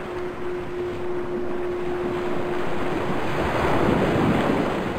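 Steady ocean waves wash and roll in the background of the KinitoPet video game, a continuous soft surf mixed with a windy hiss and no talking.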